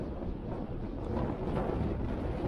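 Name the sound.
strong east wind while cycling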